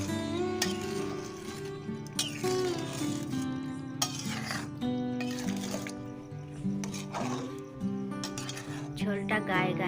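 A spatula stirs rohu fish curry in a pan with fried fish pieces, water, potato, tomato and peas, making soft scraping clinks and a low bubbling sizzle beneath prominent background music.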